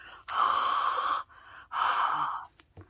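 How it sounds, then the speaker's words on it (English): Two long, steady breaths pushed out close to the mic, each about a second long, with a short quiet gap between them. "I'm going to lift this up and exhale on it."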